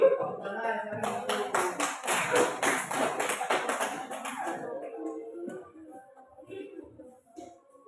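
Children in an elementary classroom clap hands together in a quick rhythmic patter lasting about three seconds, fairly close, then the clapping stops and quiet speech and room noise follow.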